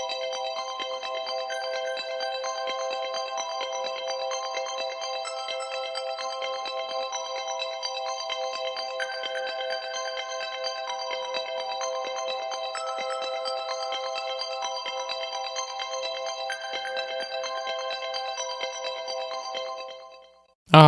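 An iOS phone ringtone plays steadily, a repeating chime pattern of bright tones, before cutting off abruptly at the end.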